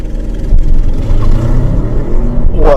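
A 2023 Audi RS7 in its maximum-attack drive mode launches hard from a standstill with a loud, deep engine roar that surges steadily throughout.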